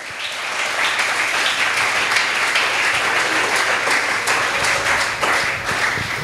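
A church congregation applauds with sustained, dense clapping that stays loud and even throughout, with a few voices mixed in.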